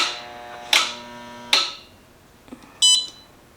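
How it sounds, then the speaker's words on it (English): A pottery kiln switching on for a cone 5 glaze firing gives a few sharp, separate clicks and beeps from its controller, close and fairly loud, with short tonal ringing after each one and nobody speaking. "you're gonna hear that clicking sound, so that means that the kiln is on"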